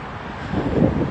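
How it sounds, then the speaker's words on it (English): Wind blowing outdoors on a gusty day in Houston, Texas, a steady rushing buffet against the microphone that swells louder toward the end of a brief moment. "It's a windy day out here in Houston, Texas."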